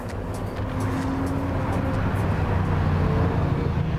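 GT race cars at the Assen circuit in a 2011 Dutch Supercars race, coming through the Ramshoek corner and the GT chicane toward the start-finish straight; a steady, loud engine roar with low droning tones holds for the whole stretch.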